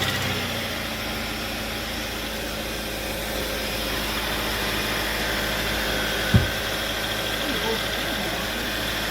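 A car engine idles steadily after a water pump replacement, a constant close rumble with one brief sharp knock partway through; voices may be faintly present.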